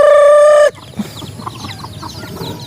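Chickens on a small farm: a loud rooster crow opens, then hens cluck softly and irregularly nearby with faint farmyard background.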